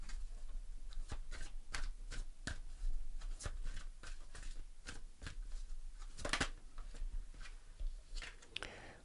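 Angel answer cards are shuffled by hand in a series of crisp, close riffling and flicking bursts, separated by brief pauses, in a quiet room with no talking.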